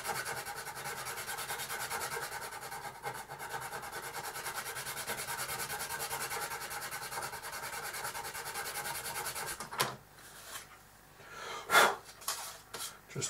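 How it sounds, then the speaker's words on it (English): A coarse, skinny hand sander rasps back and forth over dried filler to level it, giving a steady scratchy rubbing for about ten seconds, then a few short, louder scrapes and taps. "So I'm just using a coarse, skinny sander."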